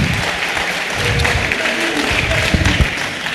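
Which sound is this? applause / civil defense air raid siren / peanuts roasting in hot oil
applause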